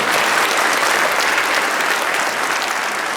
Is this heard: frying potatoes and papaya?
no